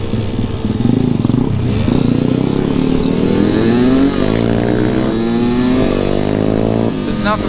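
A road legal pit bike engine revving and droning while riding, loud and close, its pitch rising and falling as the rider shifts through the throttle, with a voice talking over it.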